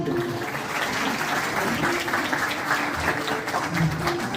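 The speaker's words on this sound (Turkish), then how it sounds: "Onlara da bir alkış alabilir miyiz?" A crowd at a municipal event for a disabled persons' living center claps in a sustained, fairly loud round of applause, with faint voices mixed underneath.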